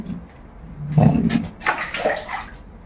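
Water splashes and pours in uneven bursts over an elderly woman being bathed, a loud close sloshing at about the middle of the clip, then lighter splashing.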